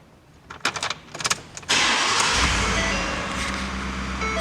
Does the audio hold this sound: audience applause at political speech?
no